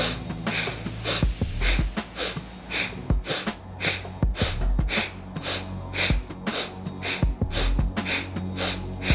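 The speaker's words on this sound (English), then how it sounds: "As the arms come up, I inhale. As the arms come down, I'm exhaling." Deep rhythmic breaths in and out during a yoga breathwork routine, each inhale and exhale forceful and close, repeating steadily about once per second with sharp gasping edges.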